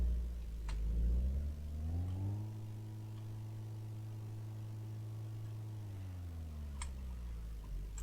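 A racing Lada driven hard, its engine revving up steadily and then holding a steady, droning pitch before easing off, close and alone with a few light ticks.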